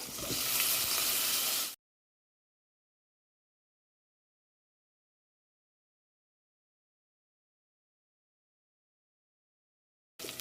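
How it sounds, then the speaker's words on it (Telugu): Onions frying in a pan for horse gram sambar give a steady, close sizzle that lasts under two seconds, then break off into silence, with a brief return of sizzle at the very end. "ఇప్పుడు ఆనియన్స్ మనకి కొద్దిగా ఫ్రై అయిపోయాయి కదా"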